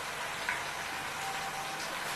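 Water poured into a pot of lentils while cooking chicken haleem: a steady, continuous splashing rush, close and even throughout with no talk.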